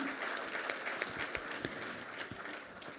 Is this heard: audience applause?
yes